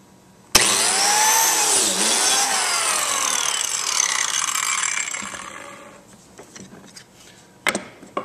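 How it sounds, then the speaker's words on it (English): Biscuit joiner cutting a slot into wood for a splay-legged table, one loud sustained high whine starting sharply and running about five seconds before winding down, followed by a few faint knocks and clicks. "Don't let that biscuit joiner tip forward or twist on you while you're doing these cuts."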